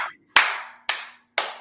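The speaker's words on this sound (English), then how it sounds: "That was just me applauding for myself" A man claps his own hands four times in an indoor room, each crisp clap loud and close with a short ringing tail, spaced about half a second apart, with no speech.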